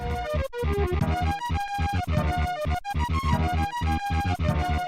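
Chiptune-style music from the 1996 SNES game Oscar, a port of an Amiga title, plays loud and continuous with a steady pulsing beat while melody and bass lines clash and drift out of time with each other.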